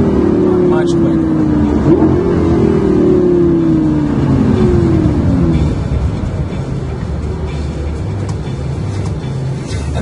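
A Lamborghini LP 560-4 in Corsa mode driven on the streets: a loud engine roar that climbs and then falls through quick downshifts, with blips, settling into a lower rumble and road noise.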